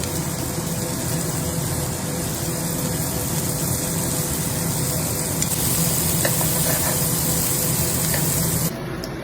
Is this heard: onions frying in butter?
yes